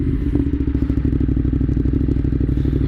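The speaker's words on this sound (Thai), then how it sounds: "ซึ่งท่อ ก็ ไม่ค่อยจะ ไม่ค่อยจะเบาสักเท่าไหร่นะครับ แต่เราก็พยายามบิดเบาๆครับ" A Ducati Monster 821 motorcycle rolls along on gentle throttle, its exhaust giving a steady, close, low rumble with a fast even pulse throughout and no voices over it.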